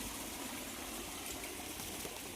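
Water pours steadily from a motor-driven water pump. A dense, constant rushing gush stays at an even level the whole time, close by and with no voices.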